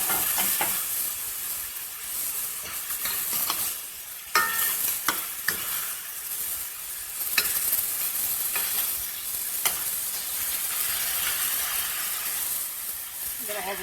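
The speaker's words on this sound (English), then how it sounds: "I'm going to add all the shrimp." Shrimp frying in a pan for Tunisian brik, a steady, close, loud sizzle with intermittent stirring scrapes and clatter throughout.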